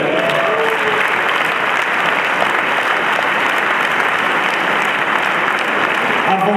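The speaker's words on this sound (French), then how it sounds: "Je vous demanderai de l'applaudir un applause pour le Richter Marcus Gerber." An audience at a Red Holstein cattle show gives the judge a sustained, dense round of applause that fills the whole stretch at steady loudness, with a voice briefly audible near the end.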